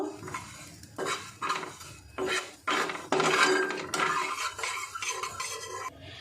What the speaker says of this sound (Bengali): তিলটা একটু ভেজে নেব।